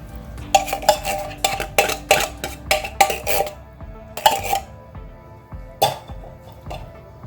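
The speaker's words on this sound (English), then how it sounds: "I'm gonna mix it all together." Coconut milk mixture is stirred in a bowl with a utensil, giving a close run of rhythmic scraping and clinking strokes, a brief pause, then a few more scattered knocks.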